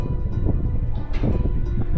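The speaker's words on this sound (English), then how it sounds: "It is a beautifully windy day out here." Gusty wind buffets the microphone, a loud low rumble that swells and dips unevenly for a couple of seconds.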